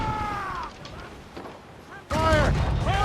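Ship cannon volleys in an Assassin's Creed Rogue naval battle boom heavily, with a loud burst late in the clip. Shouting voices ring over the gunfire.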